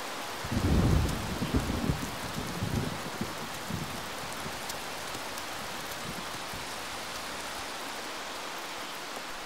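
Heavy rain pours steadily over the mountains of Jura in the Scottish Highlands, with a deep thunder rumble swelling early on before the dense hiss of rainfall carries on alone.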